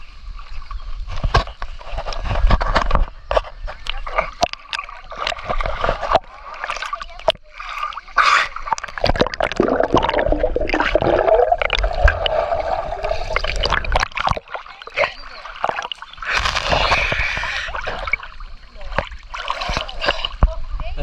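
People bathe in a lotus pond with repeated close splashes, sloshing and trickling water, irregular bursts of movement through the water, while voices talk over it.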